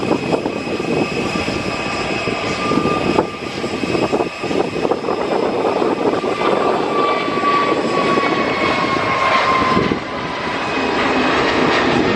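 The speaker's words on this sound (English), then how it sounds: "Here we go then, folks, with the EasyJet Airbus A320neo off to Sharm el Sheikh in Egypt." An EasyJet Airbus A320neo jet airliner takes off from Luton Airport on a summer evening, a loud continuous engine roar that stays strong throughout with a slight dip near the end.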